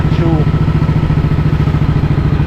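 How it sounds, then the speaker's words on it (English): A Matchless Model X motorcycle engine runs steadily close by, its firing beating in an even, rapid pulse that stays loud throughout. "actual engine is running sweetly, as it should"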